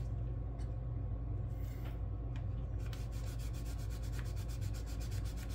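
Paint on a 1957 Cadillac Eldorado Brougham model car is wet-sanded in short rubbing strokes, first scattered, then a fast, even run of back-and-forth scrubs over a low steady hum, close and faint.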